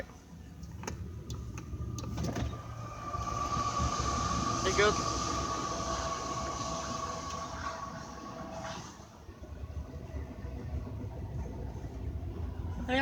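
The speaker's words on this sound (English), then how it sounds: "Pretty fast moving train too." A fast-moving train passes beside a Walmart parking lot in Lewisburg, Tennessee, giving a continuous rumble with a sustained whine that swells in the middle and then fades, while someone talks over it.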